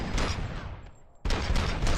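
Gunfire in the video game Robocop: Rogue City, a rattling fusillade of shots that drops off briefly and then resumes at full intensity.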